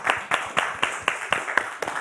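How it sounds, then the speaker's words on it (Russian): A small audience in a TV studio claps in rhythmic unison for a band's 25th anniversary, about eight sharp, regular beats, close and distinct. "Это достойно аплодисментов."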